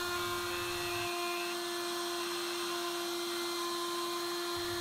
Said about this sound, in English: We use a 3/8 inch radius round over here.